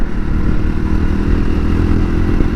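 Honda CB250RS motorcycle with a freshly rebuilt engine and forks, ridden into a bend: a loud, steady engine drone with rough mechanical clatter and wind rush throughout, close up and without speech.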